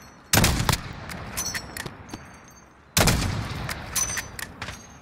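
Gunfire in the Warzone video game: two loud, close bursts of rapid shots about three seconds apart, each trailing into scattered single cracks and smaller impacts.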